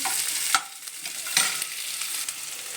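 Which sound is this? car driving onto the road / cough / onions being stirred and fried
onions being stirred and fried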